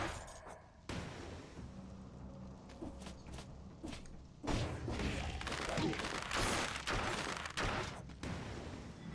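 Grenade blasts in the video game Dead Cells, a series of sharp bursts and thuds over several seconds with quieter crackles and shattering between them, fairly soft overall.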